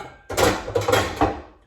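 A metal pot lid is lifted and set down on a stovetop while cooking cabbage and sausage. It makes a few close, fairly loud clanks and thunks at an uneven rhythm, with a short metallic ring after each knock.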